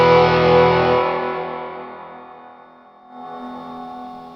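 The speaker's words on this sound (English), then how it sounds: "here's with the drive and the reverb tone turned up almost full" An electric Danocaster single-cut guitar plays through a Todd Sharp JOAT 20 amp with drive and reverb nearly maxed, a distorted chord ringing out and slowly decaying in a long reverb tail, followed by a second softer strum.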